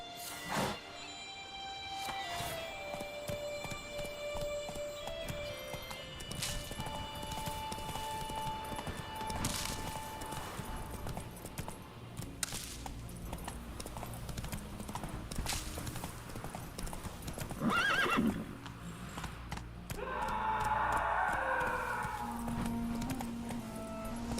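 Geralt's horse Roach trots and gallops through the Skellige Isles in The Witcher 3, a continuous clip-clop of hooves under swelling game music, with short snorts and a whinny near the end.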